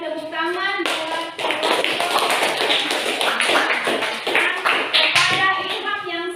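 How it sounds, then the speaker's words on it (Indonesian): A classroom of students claps hands together for a classmate, a burst of rapid, bright claps between short stretches of a teacher talking. "Berikan tepuk tangan buat"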